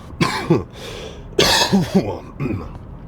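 Several harsh, close coughs come in two bursts, each a cluster of rough hacks separated by a short pause.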